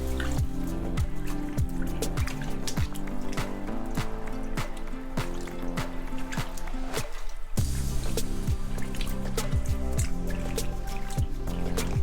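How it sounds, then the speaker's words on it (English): A knitted shawl soaking in water is squeezed by hand, producing steady close squishing and dripping with regular wet splats and trickles throughout and no talking. "once you start submerging your piece in, I like to squeeze it just to make sure that it's really getting soaked up in there"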